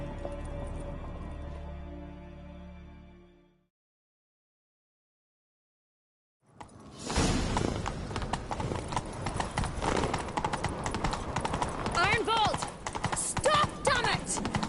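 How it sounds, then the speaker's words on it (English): Galloping horse hooves in The Witcher 3 video game: after a low murmur and a few seconds of silence, loud, rapid hoofbeats drum steadily and close until the end. "Grab a horse, we'll chase him down."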